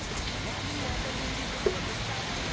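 Steady rain falling, a dense even hiss with faint patter, continuous throughout, with one brief knock partway through.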